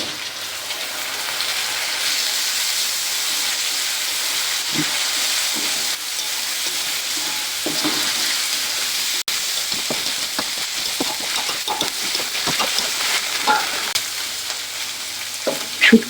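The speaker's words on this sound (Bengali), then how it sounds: "এখন ধুয়ে রাখা শুটকিগুলো দিয়ে দিলাম।" Washed dried loitta fish sizzle steadily in hot oil with fried onion and garlic, a continuous hissing fry with occasional stirring scrapes and taps.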